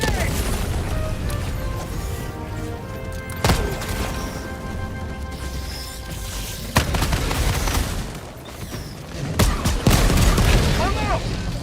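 Grenade blasts and gunfire during a bug-hive fight in Helldivers 2, several sharp booms landing a few seconds apart amid dense crackling shots, with voices shouting over the battle.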